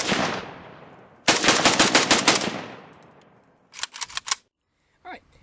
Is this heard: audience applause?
no